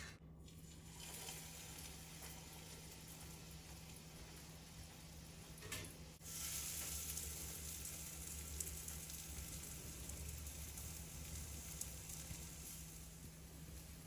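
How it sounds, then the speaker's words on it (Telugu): Potato and gram flour snacks frying in oil on a pan, a steady close sizzle that continues throughout with a brief louder burst partway, no voices. "వాటిని ప్యాన్ మీద వేసి ఇప్పుడు వేయించుకోవాలి."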